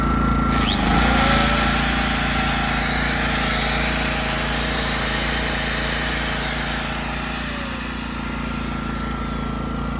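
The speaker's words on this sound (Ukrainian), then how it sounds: "Генератор видає чіткий вольтаж, не процітає, все добре" A 1.2 kW Devol petrol generator runs steadily after being switched on, its loud continuous engine drone with a constant mechanical hum staying close and even throughout, with no talking.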